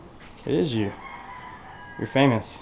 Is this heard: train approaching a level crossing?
no